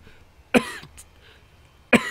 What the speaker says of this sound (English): I'm on the verge of coughing